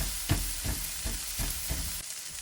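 Mushrooms browning in a hot pan over high heat give a steady, close sizzle, with a few soft stirring scrapes rising out of the hiss before it thins slightly near the end.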